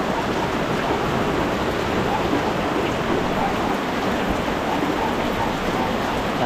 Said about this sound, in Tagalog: Ayan na, umulan na.